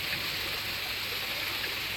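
Small waterfall beside the Narmada river, a steady rushing hiss of falling water that stays constant and moderately loud throughout, with no voices.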